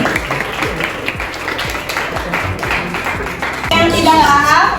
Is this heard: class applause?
yes